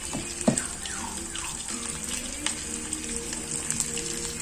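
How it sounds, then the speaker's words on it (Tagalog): Cooking oil spattering and crackling in a pan while frying, with scattered pops and hissing over a running-water-like background, moderately faint and without speech. "Nangaaway ng mantika guys."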